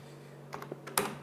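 A computer keyboard being typed on, with a handful of quick, close key clicks clustered near the end over a quiet background hum, and no one speaking.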